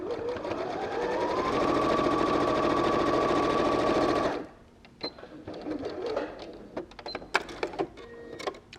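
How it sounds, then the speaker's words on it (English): A domestic sewing machine stitches a triangle pouch seam in one steady, loud whirring run for about four seconds, then stops, leaving soft handling clicks and fabric rustle. "So stitch down that seam, but remember to leave yourself the 5mm seam allowance at the top edge clear."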